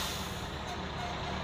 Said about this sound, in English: Big trucks coming by.